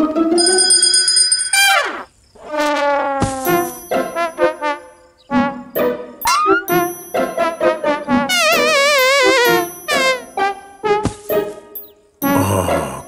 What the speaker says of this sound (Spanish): ¿Eso que suena no es una campana?